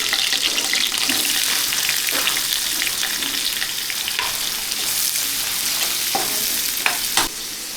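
Chopped onion drops into hot oil already holding garlic for a Malvani chicken curry, raising a loud, steady sizzle and fry with occasional stirring scrapes throughout.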